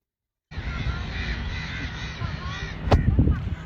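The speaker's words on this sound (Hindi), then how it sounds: "यहाँ पर इतने सारे कौवे काएं कर रहे हैं" Many crows caw repeatedly beside a river, harsh overlapping calls over a steady outdoor background, with a sharp knock and rustling near the end.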